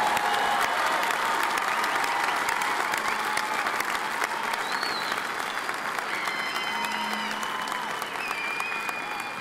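A commencement audience applauds graduates of the Fall 2017 class in a large hall, a steady, dense wash of clapping that holds from start to finish with faint crowd murmur beneath.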